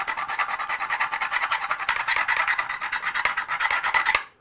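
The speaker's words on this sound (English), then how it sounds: "Now we can actually work on grinding the bevel and sharpening it." Rasping strokes of a file sharpening the bevel of a nicker blade clamped in vise grips, a steady rhythmic back-and-forth scraping up close, loud and continuous before stopping abruptly.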